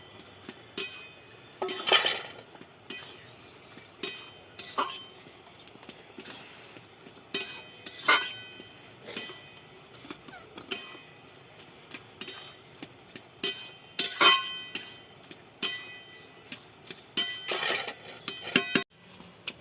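Bottle gourd curry with fish roe is stirred in a pot in a village kitchen, with irregular bright clinks and taps of a ladle against metal over a quiet background, no voices.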